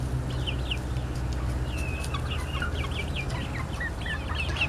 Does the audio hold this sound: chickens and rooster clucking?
yes